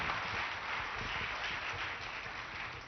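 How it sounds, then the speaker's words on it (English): A church congregation claps steadily and continuously throughout, a dense wash of many hands at moderate distance with no clear break. "Give Jesus a clap, prophet."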